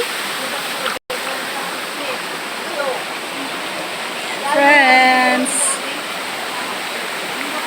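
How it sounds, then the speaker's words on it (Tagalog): Stream water flowing steadily at a creek where people swim, a continuous broadband rush throughout, with a voice briefly calling out over it. "Flowing ang tubig ngayon."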